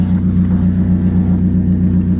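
Vauxhall Corsa idling through a newly fitted loud exhaust, a deep steady burbling drone with a slight pulsing throb, close and loud, no voices.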